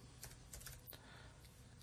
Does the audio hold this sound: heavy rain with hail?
no